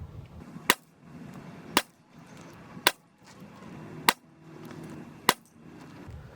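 A Mrod Air Max, a regulated PCP air pistol, fires five sharp, loud cracks spaced about a second apart, each standing out clearly above a quiet low background hum.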